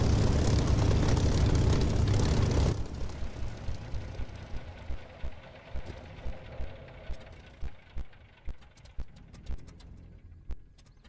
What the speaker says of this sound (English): Got to shut the engine down for repair.